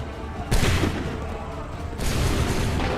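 Cannon volley in Assassin's Creed 3, two broadband booming blasts about a second and a half apart, each followed by a sustained roar and rumble, loud and close.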